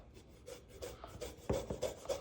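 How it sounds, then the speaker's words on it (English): Fresh ginger grated by hand in a home kitchen: faint, quick rasping strokes repeating in an uneven rhythm, close by, with no talk. "I'm just going to grate some fresh ginger."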